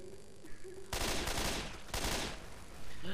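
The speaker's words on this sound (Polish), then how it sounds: "A ja się dziwię, czemu tak wybuchowe amunicje strzela." Explosive ammunition fires in Left 4 Dead 2, two loud booming bursts of rapid gunfire about a second apart, each crackling for nearly a second amid game ambience.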